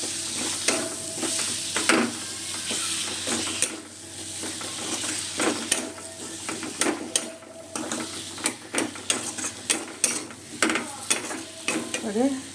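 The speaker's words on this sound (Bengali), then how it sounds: "আলুটা দিয়ে কষে নেব" Potatoes frying in a pan under a soft continuous sizzle, punctuated by sharp scraping stir strokes that come faster and more irregular toward the end, with no talking.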